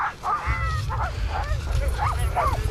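Dogs and puppies at an outdoor Winterfest 2014 event bark and yip in a quick series of five or six close, sharp calls over a low background of crowd noise.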